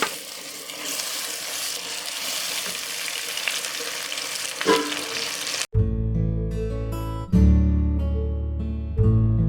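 Marinated mutton sautéing with browned onions in a pan: a close, steady sizzle with a stirring scrape for about six seconds, then it gives way to loud music.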